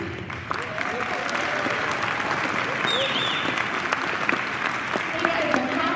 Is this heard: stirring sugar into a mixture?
no